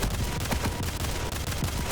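Rocket and weapon fire in a fast arena shooter duel, a dense continuous barrage of blasts and explosions layered throughout without pause, loud and close.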